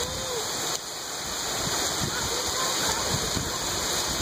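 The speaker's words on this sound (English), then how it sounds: "If you guys gonna hear the rain, take a listen." Heavy rain pours down onto a front porch and the ground around it, a dense continuous hiss and patter heard up close with no pauses.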